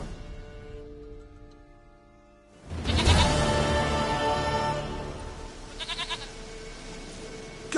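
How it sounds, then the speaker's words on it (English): Goat bleating in The Witcher 3, a loud burst of wavering bleats starting about a third of the way in over a steady game ambience, with a few shorter calls near the end. "Dearest, sweetest goat!"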